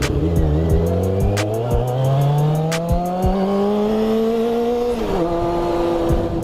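A motorcycle engine drones steadily and loudly from close by, its pitch climbing smoothly with a quick drop and recovery near the end, like a gear change, under rushing wind and with no voices.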